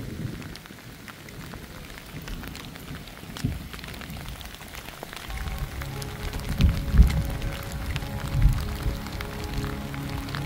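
Steady rain falls in the mountains along the GR20 trail in Corsica, a continuous hiss of drops on surfaces that thickens and grows louder in the second half, with heavier low rumbling bursts and no voices.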